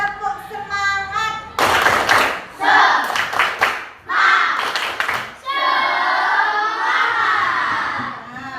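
A group of trainee teachers at a training session performing a rhythmic spirit clap: bursts of patterned clapping mixed with loud chanted group voices, broken by brief pauses, close and energetic.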